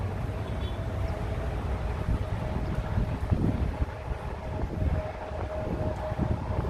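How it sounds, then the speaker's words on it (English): Strong wind buffets the microphone at San Francisco International Airport, a constant roaring rumble with a faint steady tone and distant aircraft noise beneath it. "it's windy, and then we've got the sounds of the planes taking off too"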